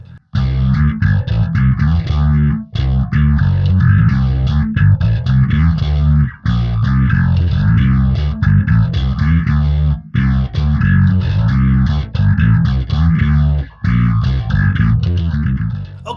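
Electric guitar with a modulation pedal in the amp's effects loop after the distortion, heard alone as loud, dense distorted chords with a pronounced sweeping, pulsing modulation and short pauses between phrases.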